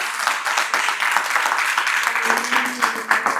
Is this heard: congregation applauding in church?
yes